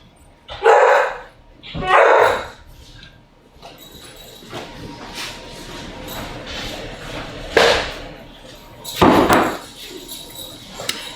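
A dog barks in a home kitchen during pizza making, several loud, sharp barks in separate bursts with quieter pauses between them, near and clear over low background noise.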